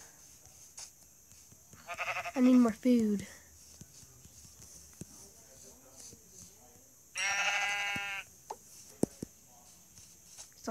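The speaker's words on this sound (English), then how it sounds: "I'm gonna kill a sheep." Sheep bleating in Minecraft, two distinct wavering bleats a few seconds apart, clear and close, with a person speaking briefly in between.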